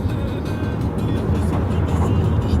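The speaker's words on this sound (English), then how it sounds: "There's some traffic, guys." Road traffic heard from inside or beside a Volvo XC40, a steady low rumble and tyre roar of passing vehicles, fairly loud and continuous with no talk.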